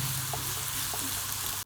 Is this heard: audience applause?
no